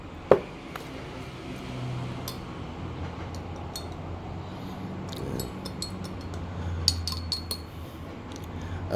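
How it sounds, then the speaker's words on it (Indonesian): Graphene oxide solution in water being stirred in glassware, with a sharp clink near the start, then soft scraping and scattered light glassy ticks and taps over a quiet background. "Saya akan aduk."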